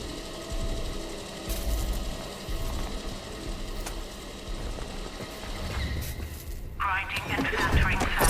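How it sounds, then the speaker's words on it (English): Sample grinder in Atomfall grinding and filtering, a steady mechanical whirring hum that runs continuously before shifting into a sharper, higher whine near the end, under a calm automated voice announcing the process. "Grinding and filtering sample."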